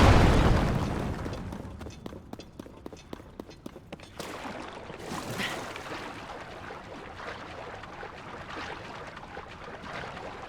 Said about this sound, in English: I wonder why the first explosion doesn't trigger right away.